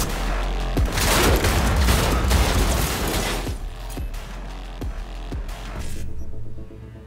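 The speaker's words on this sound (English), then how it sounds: "There's a lot of gunfire." Heavy gunfire during a heist in Cyberpunk 2077: a dense burst of rapid shots and booms, then sharp single and paired shots spaced out, loud and close.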